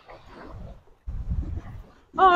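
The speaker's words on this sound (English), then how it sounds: "Oh, look at the dogs." Dogs give low, muffled growling grumbles and soft whimpers in two stretches, ending with a sharper, higher whine or yelp, close and alone without talk.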